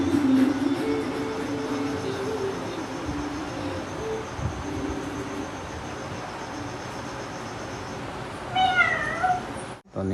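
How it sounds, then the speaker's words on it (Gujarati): Kittens meow in a short burst of rising and falling cries near the end, heard over a steady outdoor background hum with no talking. "બિલાડીના બચ્ચા."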